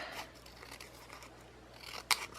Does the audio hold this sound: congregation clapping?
no